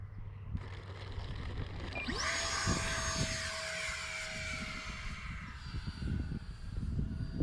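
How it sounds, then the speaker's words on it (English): An E-flite Habu STS model jet with an electric ducted fan whines steadily overhead, a sustained high-pitched rushing drone that holds throughout, fairly close and loud. "this plane flies so slow, and this is an EDF at that"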